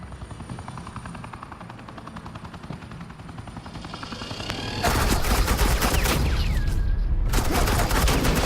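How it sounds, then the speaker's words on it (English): Suppressing gunfire in Batman: The Enemy Within begins as a rapid, rattling stream under a steady mechanical drone, then swells abruptly into a dense, loud roar of continuous automatic fire that holds to the end. "This is Agent Quinn, suppressing fire."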